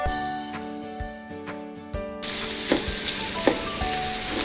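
Butter hits a hot pan with garlic shrimp, parsley and lemon zest, breaking into a loud, dense sizzle with crackling pops after a quieter start of soft ticks and taps.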